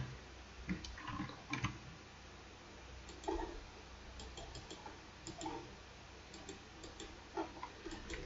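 Crisp computer mouse clicks come in small clusters and single taps while ventilation ducts are drawn in CAD software, faint and close in a quiet room with no talking.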